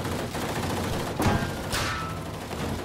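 Gunfire in Battlefield V plays as a busy battle mix of scattered shots and a couple of sharper bangs over a steady rumbling background.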